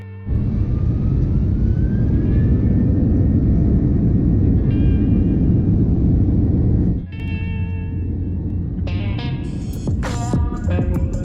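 Qatar Airways airliner engines roaring loudly and steadily as the plane taxis and flies, a continuous low rumble with a rising whine, then shifting tones and electronic chimes near the end.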